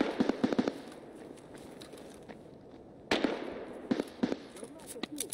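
A grenade goes off in the shooter game Escape from Tarkov with a sharp crackling burst, then a second loud blast a few seconds later, each trailing into rattling debris over quiet background noise.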